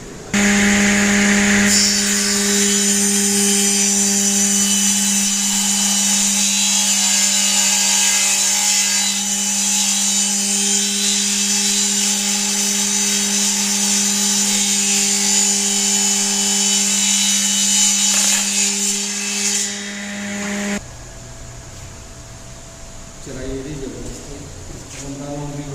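A Wudmax 13 by 9 inch wood planer with side cutter runs on wood, a loud, steady mechanical whine and hum with cutting noise that stops near the end. Someone talks over the machine.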